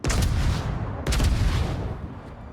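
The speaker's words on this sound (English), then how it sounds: "He continues to fire AP at me." Armor-piercing naval gunfire aimed at the battleship USS New Mexico in a video game, heard as two loud heavy booming blasts about a second apart, each trailing into a long rumbling roar.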